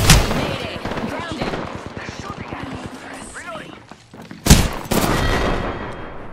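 Rapid gunfire during a firefight in Apex Legends on PS4 Pro, a dense run of close shots with a sharp loud blast near the end, under game voice lines.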